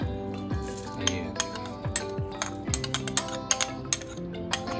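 A metal spoon scrapes and clinks against a pot while thick chana and lentil dal is stirred, with steady irregular taps over a low background hum.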